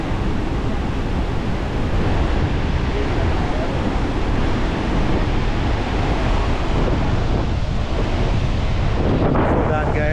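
Ocean waves roll in as the tide rises at Versova Beach in Mumbai, a dense continuous roar of surf mixed with heavy wind buffeting the microphone, loud and unbroken.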